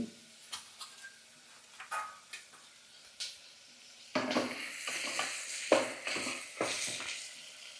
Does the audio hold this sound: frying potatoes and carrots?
yes